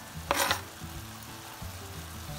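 Sliced carrots hit hot oil in a pan with a brief loud sizzle, settling into a steady frying hiss that continues to the end, with no talking.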